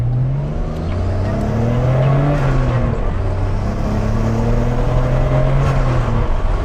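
A 1991 Nissan Skyline engine revs at half throttle nearby, its loud, steady drone rising and falling in pitch through repeated gear-like sweeps.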